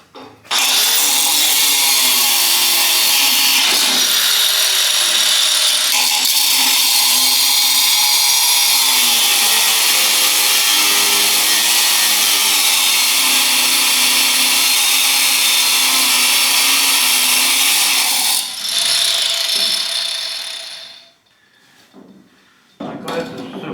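A power drill grinds steadily for about eighteen seconds, boring out stubborn bolts on a bed frame during disassembly, loud and close, then cuts off and quiet rustling follows.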